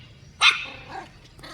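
A single sharp dog bark close by, one of several pet dogs at a home, followed by a faint trailing yelp against quiet background.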